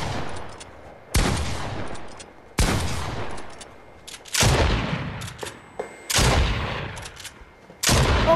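A pump shotgun and a striker pump firing in a video game, six loud blasts spaced about one to two seconds apart, each a sharp crack followed by a decaying boom, with nothing else heard.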